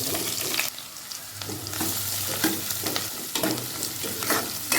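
Chopped onion and green chilli fry in hot oil with cumin and mustard seeds in a pan for a bitter gourd and tomato curry, with a steady loud sizzle and frequent spoon stirring scrapes close up.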